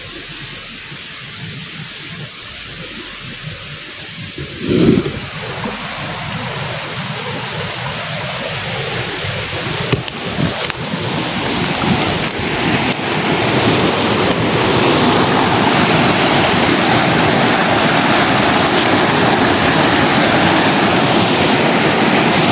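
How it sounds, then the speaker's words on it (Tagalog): Wide expanse of moving water, a continuous loud rushing roar of surf or current that builds and thickens after the first few seconds, with steady wind buffeting the microphone and no talk. "Napakalawak na tubig."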